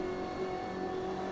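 Steady engine drone of a race car driven in the Automobilista 2 sim racing game, a continuous mid-pitched hum with no sharp impact standing out.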